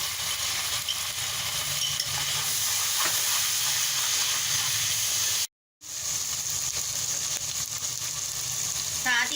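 Ginger garlic paste hitting browned onions in a hot pan for khandwiyan, a loud continuous hiss and sizzle with stirring scrapes, briefly cut by a short gap before the frying resumes.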